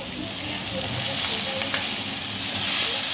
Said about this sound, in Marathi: आता ह्याला एक दीड मिनिट परतलं की मग त्याच्यामध्ये बटाटे घालून घेणार